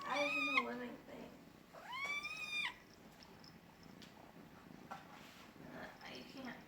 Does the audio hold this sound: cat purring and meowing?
yes